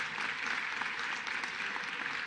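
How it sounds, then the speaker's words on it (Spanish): Sustained applause from an audience honoring a foundation at a sports merit award ceremony, a dense, even clapping that stays steady throughout. "Un aplauso, por favor, para la Fundación FUDELA."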